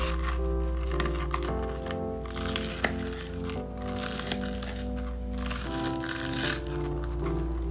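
Crispy fried tempeh nuggets crunch in repeated close bites, with crackly snaps scattered over about eight seconds above a steady humming tonal background.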